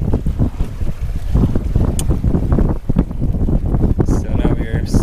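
A sailboat under way on open water returning from a reef, with heavy wind buffeting the microphone and a constant rushing roar.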